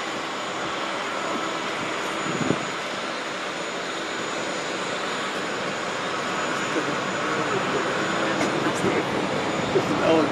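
A Qatar Airways Boeing 787 jet airliner performs a flying display at Farnborough, its engines giving a steady, broad roar that holds for the whole stretch, distant and continuous, with a brief knock near the start.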